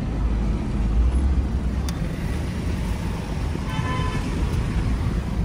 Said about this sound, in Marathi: आता येणाऱ्या गाड्या पण बघा आणि आता जाणाऱ्या गाड्या पण